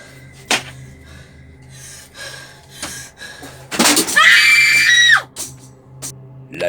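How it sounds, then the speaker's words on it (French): A woman in a dark storage room in a short film screams loudly for over a second. Scattered thuds and clatters of falling objects come before and after the scream. "des objets tombent, puis elle crie."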